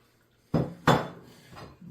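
A utensil stirs baby spinach into a pan for a creamy chicken tetrazzini, making two sharp metallic clanks and a fainter knock, close and alone.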